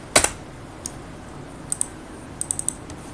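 Sparse keystrokes on a computer keyboard while entering a spreadsheet formula: one sharp near click at the start, then a few light taps spaced apart, with a quick cluster of clicks near the end and no voices.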